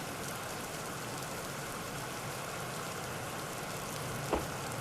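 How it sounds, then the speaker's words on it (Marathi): Heavy monsoon rain pours over Kolhapur as a dense, unbroken hiss with a low rumble beneath, steady and enveloping, with a single brief knock near the end. "कोल्हापुरात अनेक भागात मुसळधार पावसाने हजेरी लावली"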